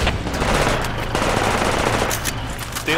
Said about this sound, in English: Stay low, he's shooting at me.